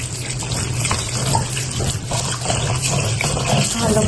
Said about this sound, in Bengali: এদিকে আমি মাংস হওয়া পর্যন্ত চালগুলো ধুয়ে পানি জড়িয়ে রাখবো।